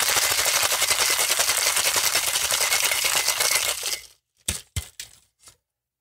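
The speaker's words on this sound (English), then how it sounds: "that shaking the cocktail vigorously" A cocktail shaker packed with ice is shaken hard by a bartender, a dense, loud rattling churn running steadily for about four seconds, then stopping, followed by a few sharp separate knocks and taps.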